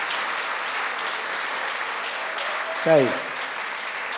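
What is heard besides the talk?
audience applause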